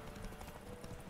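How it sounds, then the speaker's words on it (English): A horse's hooves clip-clop at a steady trot in The Witcher 3 video game, a rapid even patter of hoofbeats heard continuously over a busy game background, with no talk. "Roach is a hard-working horse"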